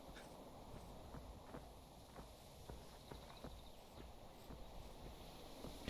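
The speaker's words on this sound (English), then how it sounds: "I heard footsteps just as I was saying I'm yapping." Footsteps in a video game, heard as a steady run of soft, evenly spaced thudding steps, almost like clopping hooves, over a constant background hum and hiss.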